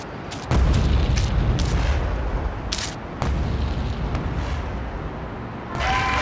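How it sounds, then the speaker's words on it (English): Rocket launcher explosions in the video game GTA2: several deep booms land close together over a dense, rumbling game background, with no talk. "Machine gun rocket launcher."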